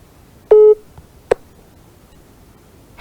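After a phone call drops during a TV studio call-in show, a telephone line gives short electronic tones: one longer beep, then a brief blip and another tone starting at the end, over quiet background hiss.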